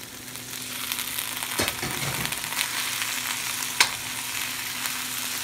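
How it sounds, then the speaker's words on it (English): Green beans and onions crackle in a hot pan, an even close sizzle with a stirring scrape early on and one sharp clink of a utensil partway through. "our onions have gotten nice and sizzly, so we're gonna add the green beans"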